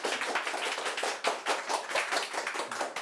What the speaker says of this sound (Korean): 감독님을 박수로 이 자리에 한번 모셔볼까요?